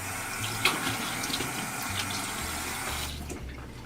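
Running tap water pours steadily into a sink during face washing, a continuous close splashing rush with a few brief louder splashes, ending slightly quieter.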